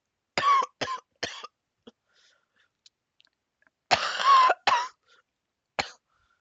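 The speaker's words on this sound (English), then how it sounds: "this just cough is getting to me." A person coughing, three quick close hacks, then a pause with faint small sounds, followed by a longer harsh cough with throat clearing and one last cough.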